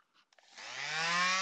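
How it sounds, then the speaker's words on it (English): A power sander working a PVC/Sintra armor plate, starting after a few faint taps and quickly rising to a steady, loud mechanical whine that holds to the end, with no talking. "we still have a good bit of sanding left to go to get this so that it's flush"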